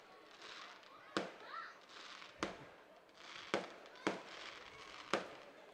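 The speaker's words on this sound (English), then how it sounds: "Now fireworks out in right field." Fireworks burst over right field at an IBL ballpark in Brantford, five sharp cracks spaced about a second apart over a steady crowd-like hiss, with a whistling streak between the first two.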